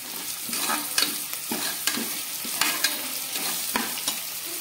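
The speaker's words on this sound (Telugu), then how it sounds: "వేసి పచ్చివాసన పోయే వరకు బాగా ఫ్రై చేసుకోవాలి" Ginger garlic paste sizzles and fries in a hot pan, with a steady crackle broken by repeated scraping stirs of a spoon, close and fairly loud with no talking.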